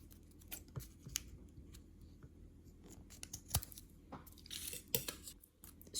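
Scissors snipping pointed tips along the edge of a paper Christmas crown, a handful of quiet, crisp cuts spread unevenly over a soft room background with no voices.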